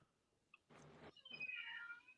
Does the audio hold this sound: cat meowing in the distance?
yes